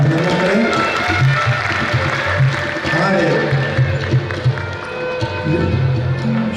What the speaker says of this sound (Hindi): उनके लिए आप यहीं से तालियां बजा करके उनका अभिनंदन करें।